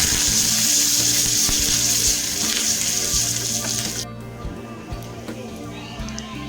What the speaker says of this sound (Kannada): ಸಾಸಿವೆ ಚಟ್ಪಟ ಅಂತ ಸಿಡಿದ ಮೇಲೆ ಕರಿಬೇವಿನ ಸೊಪ್ಪು ಹಾಗೂ ಒಣಮೆಣಸಿನ್ಕಾಯಿನ ಹಾಕ್ಕೊಳ್ಳೋಣ